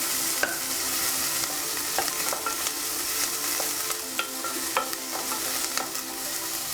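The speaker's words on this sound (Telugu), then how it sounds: "లైట్ బ్రౌన్ కలర్ వచ్చే వరకు మనం ఫ్రై చేద్దాం." Chopped onions sizzle steadily in hot oil while a utensil stirs them, with scattered scraping clicks over a constant fry and no talk.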